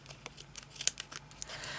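Scissors snipping a thin sliver off a paper envelope, a series of soft, quick crisp cuts and faint paper rustles, close and quiet.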